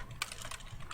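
Several quick, light clicks from a computer keyboard, sharp taps close to the microphone in a quiet room.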